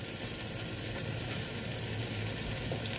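Tofu fries in oil in a pan while being stirred, giving a dense, continuous crackling sizzle with busy stirring clatter underneath, close and fairly loud.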